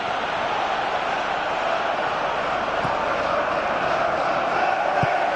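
Steady crowd roar from a football video game on PS4, a continuous loud stadium wash of cheering and chanting that holds throughout with no breaks, with a couple of faint thuds near the end.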